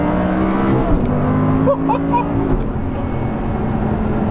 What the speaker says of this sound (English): Naturally aspirated engine, so freely revving.